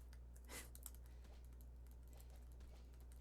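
Computer keyboard typing, a faint run of soft clicks and taps that continues steadily over a low constant hum, with no voices.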